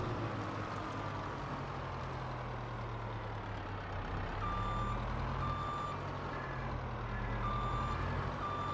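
Reversing beeps from a tractor backing up in Farming Simulator 22 during corn chaffing with a Fendt Katana 850, evenly spaced beeps over a low steady engine rumble, with no one speaking.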